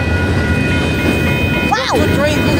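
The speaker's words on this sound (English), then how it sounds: "Look at the train, look at that!" A Union Pacific train passes at El Paso with a loud, continuous rumble. A brief horn or squeal sweep sounds partway through, and excited voices are heard over it.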